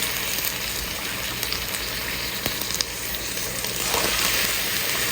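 Water added a little at a time to a hot pan for a budget homemade pudding, hissing and sizzling steadily throughout, with a brief surge of louder bubbling near the end.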